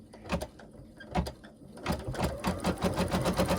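Sewing machine stitching down fabric for a gnome craft project, running in bursts of rapid mechanical needle clatter that steadies into a continuous whirring stitch, close and fairly loud with no talk.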